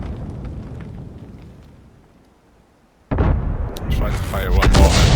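Artillery in World of Tanks fires with a sudden heavy blast after a quiet stretch, followed by a rumbling, crackling tail and further booms, while a voice talks over it.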